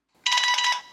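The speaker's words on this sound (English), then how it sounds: "So if I go ahead here and I can select a sound, we'll do the bell." A bell notification chime plays on an iPhone from a jailbroken Cydia tweak when airplane mode is toggled, one bright ringing tone of about half a second that fades out, close and alone with no talk.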